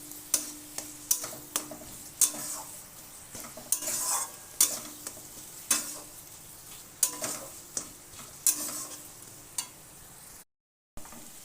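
Spice masala for a palak chana dish fries on low heat in a pan while a spoon stirs it, giving a soft, steady sizzle punctuated by regular clinking scrapes of the spoon, close and quiet.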